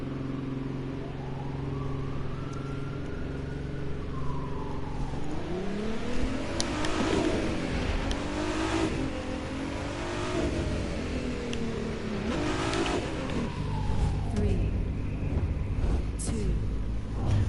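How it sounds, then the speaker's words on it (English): A Jaguar concept car engine revs and accelerates in the racing video game The Crew 2, rising and falling in pitch through repeated surges, with someone talking over it. "if you guys are wondering what car that is, it's a Jaguar C something. The concept car."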